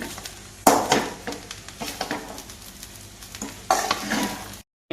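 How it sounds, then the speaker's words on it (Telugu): A spoon stirs carrot rice with coriander in a frying pan, with close scraping and clinking strokes over a light sizzle, several sharper knocks, then a brief silence at the end. "కొత్తిమీర వేస్తున్నానండి ఒకసారి మొత్తం కలిపేసుకుందాము"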